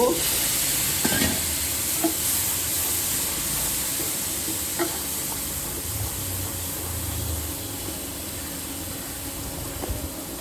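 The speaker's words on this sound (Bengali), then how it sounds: "এবার একটু জল দেব" Water poured into a hot pan of spiced biulir dal with bottle gourd, bursting into a loud, steady sizzle and hiss that holds close and continuous throughout, with a few faint clinks of a spoon and no speech.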